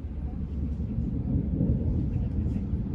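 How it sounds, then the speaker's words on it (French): Thunder rumbling in a summer storm, a low, continuous, rolling roar that swells slightly and stays heavy throughout, with no sharp cracks. "Ça commence à tonner pile quand on arrive."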